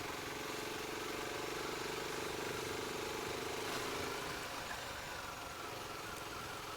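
A motorcycle engine runs steadily at a moderate distance, a continuous rumbling drone with a faint mid-range tone and no talking over it.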